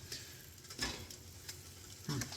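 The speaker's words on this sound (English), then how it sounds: "we're literally going to toast this bread here. It's just going to get toasted in the pan" Bread toasts in a pan for a leftover roasted pork loin sandwich, with a faint sizzle and a few soft scraping or shifting sounds, close and quiet.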